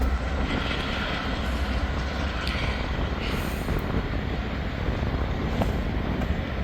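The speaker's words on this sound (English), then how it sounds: "There goes Norfolk Southern train 189" A Norfolk Southern freight train rolls past close by, a loud continuous rumble of railcars with clattering wheels and occasional squeals, steady throughout with no talking.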